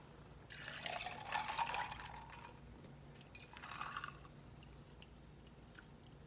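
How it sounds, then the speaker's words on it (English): Water running into a measuring cup of pickle brine for pickle lemonade, two short bursts of splashing liquid with a quiet gap between them, close and soft. "And now we're going to fill the rest with water."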